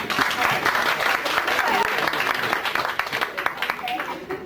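A studio audience applauds steadily for a group of young performers, a dense, even wash of clapping that holds for several seconds and starts to thin toward the end.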